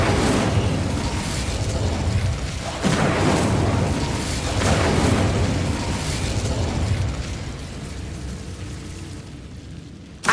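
Fire spell cast in Hogwarts Legacy, a run of loud bursting, booming blasts with crackling flame that swell and fade over about ten seconds, with no talk.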